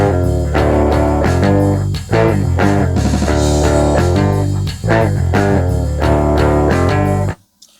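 A clean, unprocessed guitar plays a busy run of strummed and picked notes at full volume, then stops abruptly near the end.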